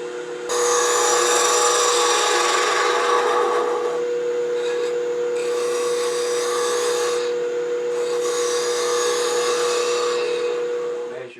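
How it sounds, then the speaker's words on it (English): A 3/8 inch spindle gouge cutting cherry burl on a wood lathe, giving a loud, continuous rasping shave over the lathe's steady hum, in three long passes separated by brief lighter moments, with no talk. "let me use my 3/8 inch spindle gouge and just true it up"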